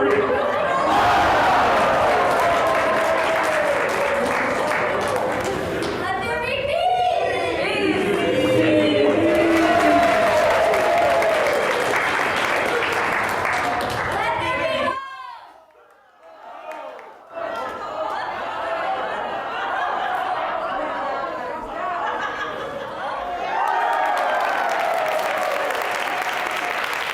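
Audience applause for players at a winter festival performance: loud, sustained clapping with cheering, chatter and some laughter from a crowd, dropping out briefly midway before resuming, with voices heard through it.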